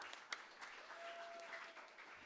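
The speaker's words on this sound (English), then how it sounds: "Let's clap our hands for Jesus one more time" Faint, steady clapping from a church congregation during a Sunday service, a diffuse wash of many hands with one sharper clap near the start.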